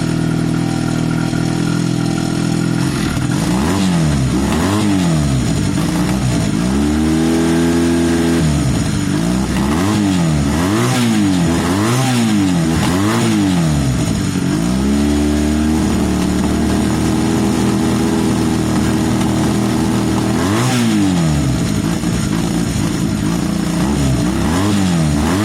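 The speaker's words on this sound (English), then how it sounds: "I'm going to rev it a bit. Let me know what you think about this noise. It's the kind of a slight backfire." A Honda CB250 motorcycle engine revs repeatedly in close, loud bursts from a rumbling idle, pitch sweeping up and down with each blip of the throttle; faint pops of a slight backfire on acceleration come through, with no talking.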